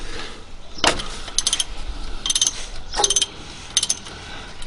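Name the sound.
ratchet loosening 16mm transmission fill level bolt, Ford Falcon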